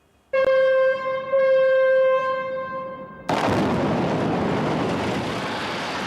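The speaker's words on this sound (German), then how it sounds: "Am 15. März 1999 wurde sie gesprengt, die Kölner Sporthalle." During the 1999 explosive demolition of the old Cologne sports hall in Deutz, a loud steady harmonic horn-like tone gives way to a sudden, loud, sustained broadband roar of the blast and collapse.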